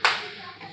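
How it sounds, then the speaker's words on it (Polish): A single sharp clap, or a brief burst of clapping, from an audience at a talk on a women's basketball league club, quickly decaying into quiet room tone. "Dajcie brawa"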